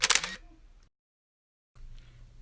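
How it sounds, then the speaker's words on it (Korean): An SLR camera fires its shutter at 1/125 s while photographing a mini car, one sharp, close mechanical snap at the start that fades quickly, followed by near silence. "먼저 셔터 스피드 125, 조리개 22, ISO 감도 400으로 미니카를 찍어보겠습니다"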